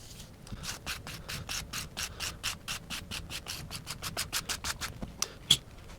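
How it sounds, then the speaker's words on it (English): A pottery rib held flat rubs quickly back and forth across a clay slab, smoothing and compressing it, making a fast run of soft scraping strokes close by, with one sharper knock near the end. "I'm holding it flat against the clay, smoothing and compressing."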